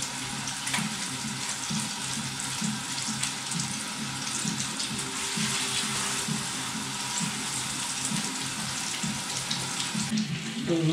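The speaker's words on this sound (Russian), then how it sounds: "котлетки у нас жарятся" Steady hissing and crackling of meat cutlets frying in a pan, a continuous sizzle with small pops over a low hum.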